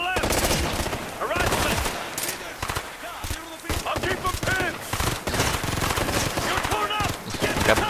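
Rapid automatic gunfire and repeated shots crackle in the Ghost Recon video game, dense bursts overlapping over nearly eight seconds, with voices mixed in among the shooting.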